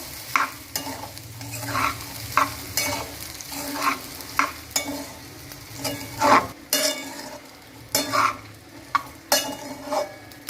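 Sabudana khichdi with rock salt being stirred in a pan over a low flame: a spoon scrapes and pushes in regular strokes about a second apart over a soft, steady sizzle. No one speaks.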